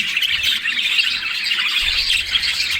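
Dense, continuous chirping and squawking from a breeding colony of Australian budgerigars, many birds calling at once and fairly loud throughout.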